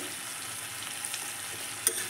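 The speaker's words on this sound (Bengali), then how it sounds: "ঢাকনাটা খুলে একটু নেড়ে নেব" Chili chicken sizzles and fries in a pan while being stirred, giving a steady close hiss with occasional light scraping and clicks from the utensil.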